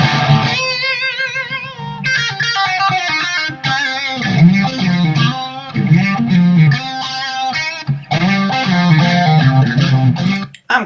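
Electric guitar played loud through an amplifier with distorted tones, sustained chords and riffs that cut out briefly at a few points, close and dense with no talking.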